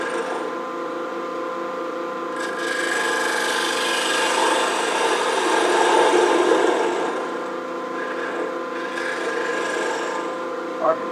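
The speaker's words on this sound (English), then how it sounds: "And then I'll come in there with my recess tool." A recess tool cuts a shallow recess, about 1/16 inch deep, into wood, giving a continuous close scraping rasp over a steady tonal machine hum that swells in the middle.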